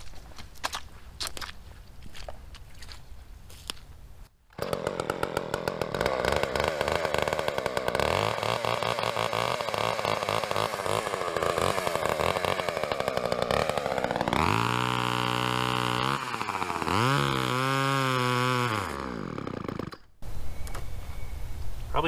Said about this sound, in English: just look for a Poland chainsaw